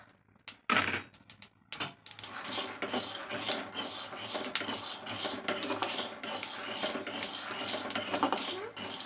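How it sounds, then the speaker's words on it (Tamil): Peanuts being dry-roasted in a pan crackle and tick in scattered, irregular pops, with a couple of louder clanks near the start, while stirring scrapes continue close by. "நல்லா வேர்க்கடலையே சவுண்டு விடுது, டப் டப் பட் பட்ட பட்ட பட்டான்னு"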